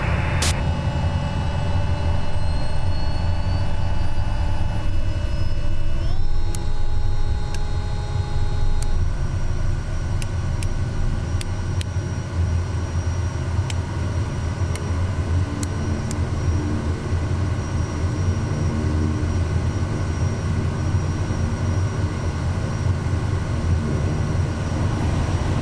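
Propeller aircraft engine at takeoff in Microsoft Flight Simulator 2024, a loud steady drone with rising tonal whine and a pitch shift as power changes, continuous and close with no talk.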